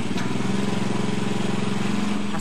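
A biogas-fuelled generator set engine runs close by at a steady loud idle, a continuous low throbbing hum with no talk.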